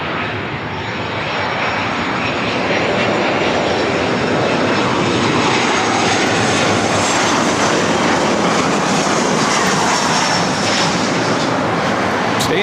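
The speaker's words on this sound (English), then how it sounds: "Emirates A380 number 3 for arrival" An Emirates Airbus A380 airliner on arrival at LAX, its engines roaring loud and steady throughout, a broad continuous rumble that holds close and full across the whole stretch.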